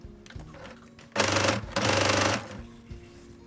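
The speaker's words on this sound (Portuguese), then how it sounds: "vou passar a costura aqui pra dar o acabamento" Sewing machine running the finishing seam on a pencil case, two short loud bursts of rapid stitching about a second each with a brief pause between, close, with quieter handling noise around them.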